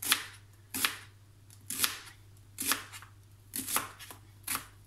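A knife slices lengthwise through a peeled onion on a cutting board. About eight crisp, evenly spaced cutting strokes sound close and clear over a faint background hum.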